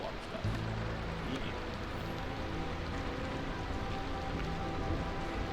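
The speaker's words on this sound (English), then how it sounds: "Why do you really hate the rain?" Steady rain falls in a video game, a dense, even patter that continues throughout at a soft, distant level.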